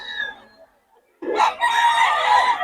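A 6K-bloodline gamecock, a three-year-old rooster, crows once loudly and close by, a sustained strained call that follows a quieter clucking lead-in and a brief pause.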